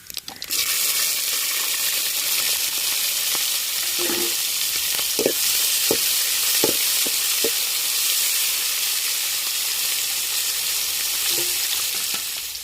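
Onions and green chilies frying in hot oil with curry masala and cinnamon for mushroom biryani, a loud, steady close sizzle throughout with a few faint spoon taps.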